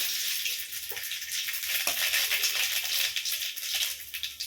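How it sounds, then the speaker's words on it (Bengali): Dal tempering sizzles loudly in hot oil with two dried chillies, mustard seeds and radhuni, a continuous close, crackling hiss with small pops that runs throughout. "ডালটা ফোড়ন দিচ্ছি, দুটো শুকনো লঙ্কা, সর্ষে আর রাঁধুনি ফোড়ন দিলাম"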